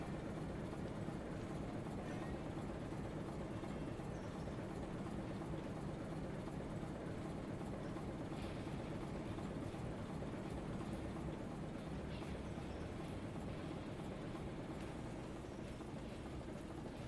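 Alco RS-1 diesel locomotive in the Railroader video game, run from the cab: a steady low engine drone with a dense rumble and faint clickety rail noise throughout, loud and continuous.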